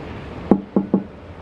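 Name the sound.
knocking twice on LG InsideView fridge door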